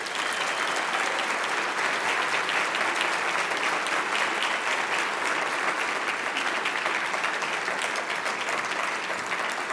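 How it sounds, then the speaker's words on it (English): Loud, sustained applause from the audience at a Chicago Teachers Union mayoral candidates forum, thick continuous clapping for a panel that holds steady for about ten seconds. "Let's give our great panel a big round of applause"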